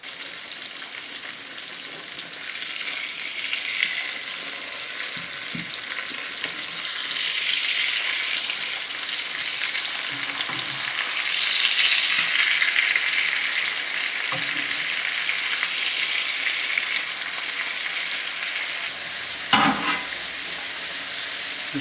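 Pork loin pan-frying in oil and butter gives a steady, close crackling sizzle with occasional soft knocks and shifts in the pan, continuous throughout with no voices.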